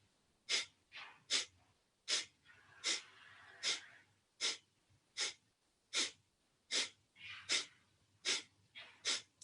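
Repeated forceful exhalations through the nose or mouth during a breathing exercise, a dozen sharp breathy bursts in a steady rhythm, close and clear, with no talking.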